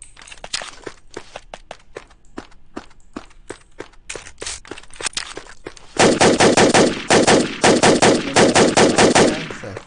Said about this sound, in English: let me shoot in the air for a minute